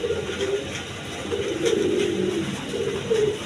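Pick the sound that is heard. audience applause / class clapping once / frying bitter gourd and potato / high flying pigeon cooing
high flying pigeon cooing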